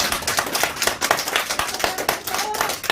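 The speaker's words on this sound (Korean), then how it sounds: "박수!" A crowd applauds at a press conference for lawyer Kang Shin-up, a People Power Party leadership candidate, with dense, steady clapping filling the whole stretch at close range.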